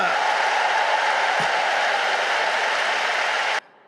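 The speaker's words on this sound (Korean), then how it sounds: "진짜 영광의 박수를 한번 돌려보십시다" A large congregation applauds at an Easter union worship service at Yoido Full Gospel Church, a dense, steady roar of clapping that stops abruptly near the end.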